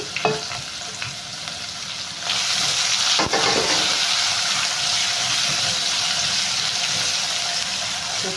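Onions sizzle in a hot pan for buttermilk rasam, a quiet start that swells into a loud, continuous frying hiss after a couple of seconds, with a sharp clatter partway through.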